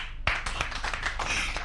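Audience at a Rotary Club of Lubaga gathering bursts into clapping after an abrupt start, a dense steady patter of many hands held for under two seconds.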